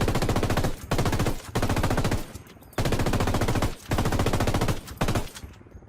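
Machine gun cover fire in a Royal Marines video game rattles in long, dense bursts broken by brief gaps, loud and close, with no talking over it.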